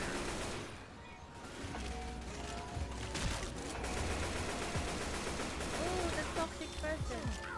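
Rapid gunfire and weapon mechanisms in a shooter video game set in an infected mall, dense bursts sustained throughout, with faint game effects mixed in.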